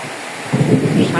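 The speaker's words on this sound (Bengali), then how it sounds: "সাংঘাতিক বৃষ্টি" Heavy rain falling steadily as a dense, loud wash, with a low rumble of thunder swelling partway through the short stretch, close and enveloping, with no voices.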